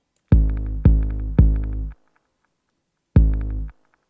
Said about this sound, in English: So this is a log drum, by the way, the Morse log drum.